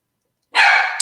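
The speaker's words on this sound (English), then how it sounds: "I apologize for the barking." A single short dog bark, loud and close, sounding abruptly after half a second of silence.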